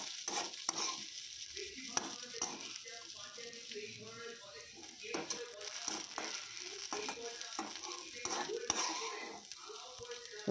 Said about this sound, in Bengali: সবগুলো মশলা আমি একসঙ্গে ভেজে নেব। উলট পালট করে ভেজে নেব আমি এভাবে সমগ্র উপকরণটিকে।